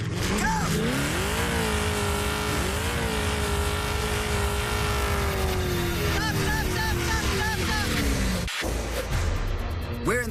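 A 1,000-horsepower Dodge Challenger accelerates hard on a top-speed run in the desert outside Las Vegas, its loud engine note climbing through rising gears with shifts, close and continuous, over wind roar.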